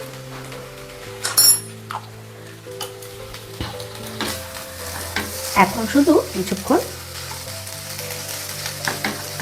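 A spatula stirs roasted spice powder of cumin, coriander and fennel through a sizzling pan of frying chowmein, scraping and clinking against the metal in uneven bursts over a soft continuous sizzle, with someone speaking briefly.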